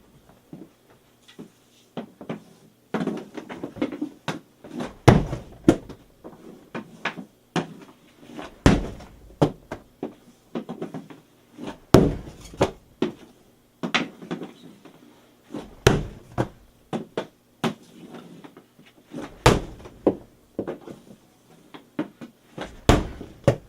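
Hockey pucks shot into a Snipers Edge shooting tarp, a series of irregular sharp smacks and thuds with clattering, close and loud, separated by quiet gaps between shots.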